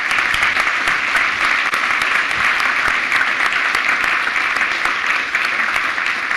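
Sustained, dense audience applause at a frontend development conference talk, loud and even for several seconds.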